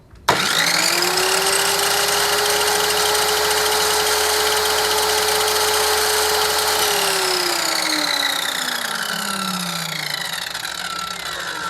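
Kyuho MK7 7-inch circular saw spinning with no load, a loud steady motor whine held constant for about seven seconds before the pitch slides down as it winds toward a stop, with no voices.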